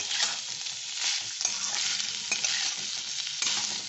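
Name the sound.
sautéing chicken filling for kachori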